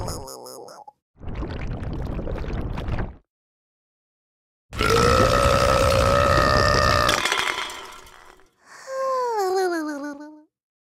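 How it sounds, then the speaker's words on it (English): Cartoon burp sound effects in a children's learning video game, several long loud belches separated by pauses, ending with a warbling squeaky tone. "Little Blue let out a humongous burp"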